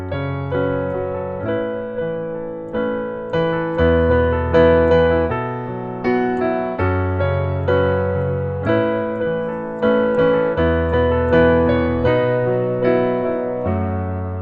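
A piano plays a repeating chord progression over a moving bass line, steady and close, with no voices.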